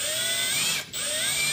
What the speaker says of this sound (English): I will start drilling that hole in the body of this Prius.